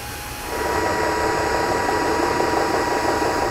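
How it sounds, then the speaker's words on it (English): Power drill fitted with a socket turning the nut of a Solera awning roller to retract the awning on a 2010 CrossRoads Cruiser RV; after a brief quiet start, a steady mechanical whir runs continuously. "we can use a socket on a drill stick it on the nut inside, and use the drill to retract the awning."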